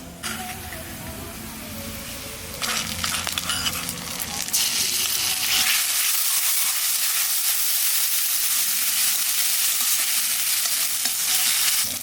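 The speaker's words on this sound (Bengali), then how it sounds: "পেঁয়াজ ভাজা হয়ে গেছে, এখন দিয়ে দেবো আদা রসুন বাটা।" Ginger-garlic paste goes into a pan of frying onions with curry leaves, and a steady loud sizzle swells up as it hits the oil, with stirring scrapes throughout.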